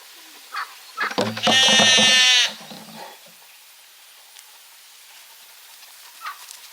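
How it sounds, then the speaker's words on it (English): A Babydoll sheep gives one loud, wavering bleat close to the mic that lasts about a second. Shorter, fainter sounds come just before it, then a quiet farm pen with faint noises afterward. "The baby doll sheep are pretty cute."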